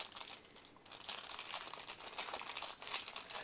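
Plastic bag being cut open around a Masters of the Universe Man-At-Arms action figure, a steady close crinkling and crackling of plastic that runs throughout, with a brief dip near the start and no talking.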